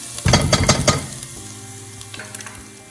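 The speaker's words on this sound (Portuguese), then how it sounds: "Vamos dar uma fritadinha no pinhão para ele pegar o gosto da cebola, do alho, do refogado" Pinhão nuts hit hot oil with garlic and onion in a pan, bursting into a loud sizzle with a few stirring scrapes, then settling to a quieter steady frying hiss.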